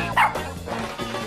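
A dog gives a single short, high yipping bark, followed by a faint whimpering tail in a brief moment from a film scene.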